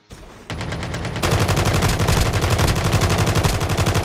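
Sustained rapid gunfire rattles loud and close in Call of Duty Mobile battle royale, building from a thinner burst into a dense, continuous crackling stream of shots.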